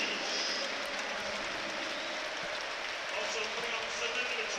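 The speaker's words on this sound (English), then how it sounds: "everybody in the stadium, well, certainly the Sunderland fans, up on their feet, applauding the young man" Sunderland fans on their feet in a stadium applauding a young player, a steady, dense wash of clapping and crowd noise that stays even throughout, broad and distant-sounding with no single voice standing out.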